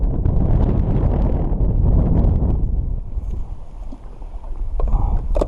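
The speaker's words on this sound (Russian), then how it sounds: "Сильный ветер, ребята. Лодку несет." Strong wind buffets the microphone in loud, rumbling gusts that ease off midway, leaving quieter water and faint clatters on a drifting fishing boat.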